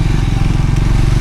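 A motorcycle ridden through Manang in the mountains, its engine a loud, steady close-up drone with a throbbing low rumble that goes on without a break.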